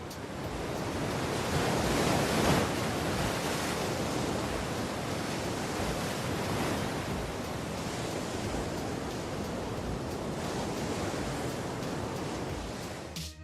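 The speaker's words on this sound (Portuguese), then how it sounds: "As ondas conhecidas como Jaws estão na costa norte da ilha de Maui" Giant ocean waves break at Jaws on the north shore of Maui beneath towering cliffs, a continuous roaring surf with a heavy crash swelling early on, steady wind-like wash, no voices.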